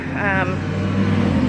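A constant rumble of nearby road traffic with a vehicle whooshing past, under a voice speaking.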